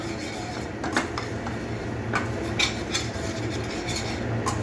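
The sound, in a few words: stirring and roasting masala in a pan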